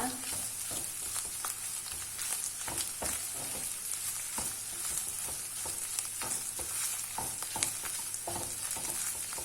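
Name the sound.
stirring tomato paste frying in pan for kebab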